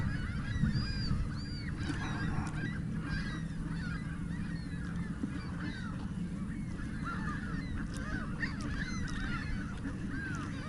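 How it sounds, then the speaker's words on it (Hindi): Canada geese honk repeatedly over a steady outdoor background on the Mississauga lake shore, a loose chorus of calls at moderate distance with no talking. "इसमें लूनी भी हैं, इसमें कैनेडियन गीज भी हैं।"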